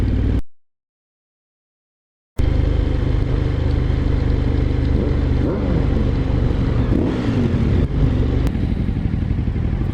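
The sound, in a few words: motorcycle riding, Suzuki Hayabusa or TLR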